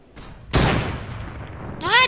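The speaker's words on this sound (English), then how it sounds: "The other duo is shooting at us." Gunfire in the video game Fortnite during a duo match: a sharp burst of shots followed by a sustained noisy blast, with a bright whistling sweep at the end, loud and close.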